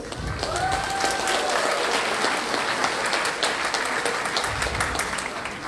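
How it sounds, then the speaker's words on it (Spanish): An audience at a university faculty event in Lima applauds an honored guest, with continuous dense clapping from many hands, steady and moderately distant, with a faint voice underneath at the start. "Por favor, aplausos."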